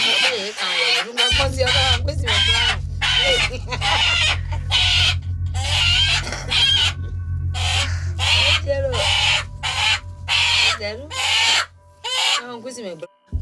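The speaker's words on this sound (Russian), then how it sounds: "Блин, он сейчас убьет курицу, да?" A chicken held ahead of a voodoo sacrifice in Benin clucks and squawks loudly and close, in rapid repeated bursts over a low steady drone.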